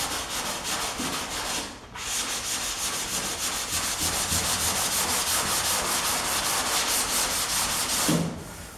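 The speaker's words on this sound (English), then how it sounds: "I'm not going to waste time showing you my sanding on the whole car." Hand block sanding of car paint, a continuous coarse rasping rub in quick back-and-forth strokes, close and steady, with a brief pause near the start and another near the end.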